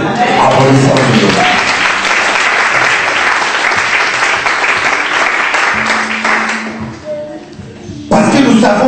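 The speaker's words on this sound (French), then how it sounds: "Applaudissons Dieu." A church congregation claps loudly in sustained applause for about seven seconds, which fades out before a voice resumes speaking.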